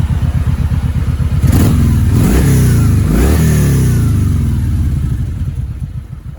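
A Kawasaki Voyager VN1700 motorcycle on its stock exhaust idles close by, then gets three sharp revs in quick succession before it settles back to a steady, fairly quiet idle rumble.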